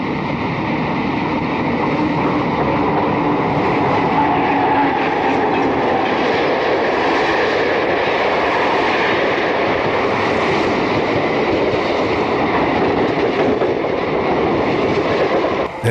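Erie Lackawanna westbound MU electric commuter train passing near Hoboken in light snow, a loud, close, continuous rumble and roar with rhythmic wheel clatter, steady for the whole stretch.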